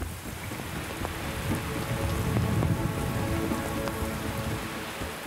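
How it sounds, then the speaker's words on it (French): Steady rain pattering on a surface outdoors on Anticosti Island, Quebec, during deer-hunting season, constant and fairly loud, with scattered individual drops and no voices. "Il pleut encore."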